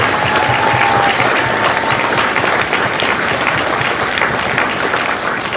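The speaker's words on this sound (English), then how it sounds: "Would you join me in a round of applause for the families of the Empire?" Loud, sustained applause from a large crowd at a Marine Corps recruit graduation ceremony at MCRD San Diego, a dense continuous roar of clapping that holds steady throughout.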